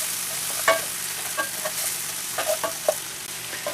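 A spoon scrapes and stirs a spiced meat sauce in a pan for spaghetti, with a steady sizzle underneath and a few sharp clinks against the pan.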